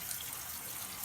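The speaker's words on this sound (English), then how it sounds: "Now make sure that you rinse these off with cold water" Cold tap water runs steadily over cooked pasta shells in a kitchen sink, a continuous hissing, splashing flow that is close and fairly quiet with no break.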